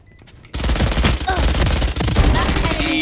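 Sustained automatic rifle fire in Valorant erupts suddenly and runs as a loud, rapid, continuous stream of shots until the end, with faint voices underneath.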